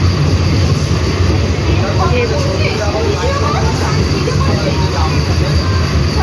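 Steady, loud rumbling and rattling of a moving, nearly empty train fills the whole clip, with faint voices buried in the noise.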